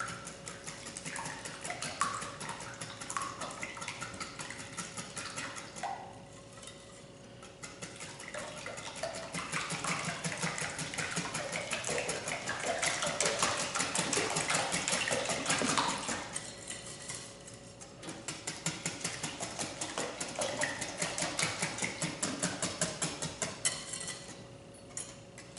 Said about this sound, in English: We're going to whisk this together real well.